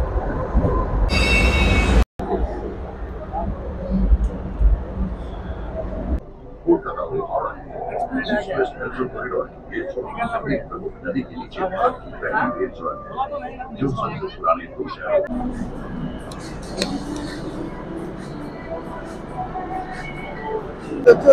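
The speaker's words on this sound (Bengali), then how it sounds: "আর আমাদের মেট্রো ঢুকে গেছে, দেখতে পাচ্ছ কবি সুভাষের মেট্রো।" A Kolkata metro train pulls into a station with a heavy, continuous rumble and rolling roar, while people talk over the din throughout.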